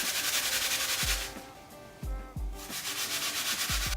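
Apple grated by hand on a grater for a Korean bulgogi marinade, a steady scraping rasp in repeated strokes with brief pauses and a few low knocks, close and fairly loud with no talking.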